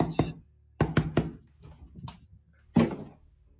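Knocking on a door, several hard knocks in two clustered bursts with a quieter gap between and a final loud knock, heard alone in a quiet room.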